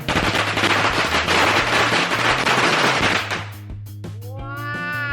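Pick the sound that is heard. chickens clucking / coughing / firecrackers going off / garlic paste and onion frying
firecrackers going off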